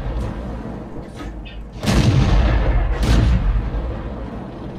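A tank gun fires in World of Tanks with a loud, deep boom, followed by a second heavy blast about a second later. Both are close and fill the low end, with rumble continuing between them.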